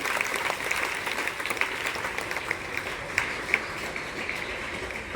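Applause for school students at a Public Inter College results ceremony, a sustained crowd clapping at moderate volume with a few sharper claps standing out, steady throughout.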